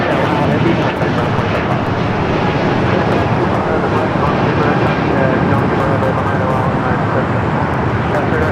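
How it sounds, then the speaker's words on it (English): A Boeing Dreamliner at LAX heading to the south side makes a steady, close jet roar that stays even throughout, with radio chatter and a talking voice layered over it. "got the Dreamliner heading here to the south side"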